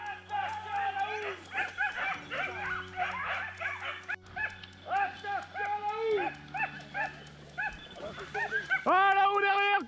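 Hunting dogs during a wild boar drive hunt bay and yip excitedly in a rapid, continuous chorus of high barks and whimpers, near and loud, while people shout over them.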